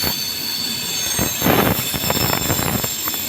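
The Uttarbanga Express passing near New Cooch Behar after leaving Bamanhat, recorded from a roadside: loud, close rumble of carriages with metallic wheel squeal and rhythmic rail clacks, no talk.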